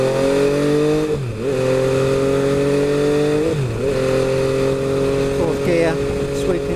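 An MV Agusta F3 800 sport motorcycle ridden on a road, its engine loud and close with a steady high drone that dips and rises through gear changes. A rider's voice speaks over it.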